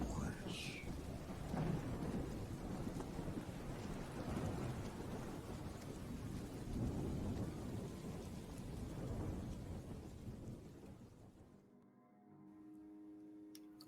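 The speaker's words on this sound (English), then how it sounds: "it's a dark and stormy night" Thunderstorm sound effect with steady heavy rain and rolling thunder, loud and continuous, easing off near the end as music takes over.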